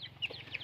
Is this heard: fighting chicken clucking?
yes